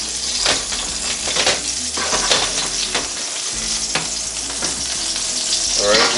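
A T-bone steak sizzles and fries loudly and steadily in a Cuisinart air fryer toaster oven after being flipped, with scattered clinks and scrapes from handling the meat, and no talking.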